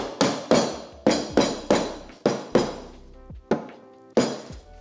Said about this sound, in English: I will take a little hammer and hammer it the rest of the way, get it good and seated